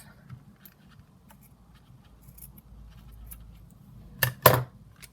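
Scissors cutting paper for a mason jar craft made with an envelope punch board: a couple of sharp, close snips near the end after a quiet stretch of faint handling sounds.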